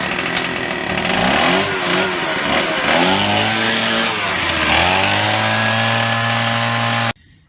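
A 2008 BMW 535i engine starts and runs after water pump and thermostat repair work, a loud steady idle with a brief rise and fall in revs midway before it cuts off abruptly.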